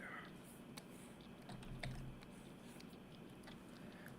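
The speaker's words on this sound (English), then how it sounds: "I can hear you typing." Fingers tap away on a computer keyboard in quick, irregular clicks, faint and somewhat distant over a low background hum.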